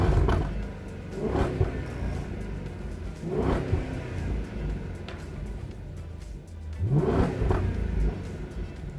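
A Jaguar XK V8 with a stainless exhaust revs repeatedly, each blip of the throttle swelling into a throaty roar and falling back, about four rises over a low rumbling idle.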